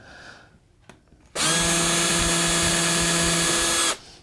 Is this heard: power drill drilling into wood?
yes